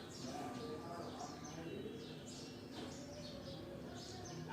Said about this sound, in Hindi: चिड़ियों के शब्द साफ सुनाई पड़ रहे हैं